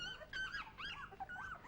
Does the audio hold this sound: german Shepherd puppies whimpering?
yes